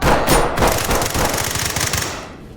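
AK rifle gunfire in the tactical shooter Ready or Not: a loud, close burst of rapid automatic shots rattling for about two seconds, then fading.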